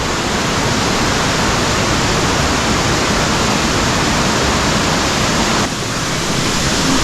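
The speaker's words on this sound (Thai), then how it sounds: "น้ำตกของน้ำไหลครับ" A constant, loud rushing roar of Khlong Nam Lai waterfall in Kamphaeng Phet, broad and unbroken throughout, with no voices.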